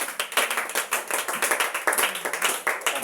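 A congregation at a church service claps in a brisk, steady rhythm of many hands, fairly close and sustained throughout, with no talk over it.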